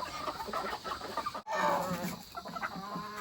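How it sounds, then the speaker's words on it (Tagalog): Chickens clucking and squawking close by in a steady busy flock, with outdoor background noise and a short break partway through. "Itong mga manok."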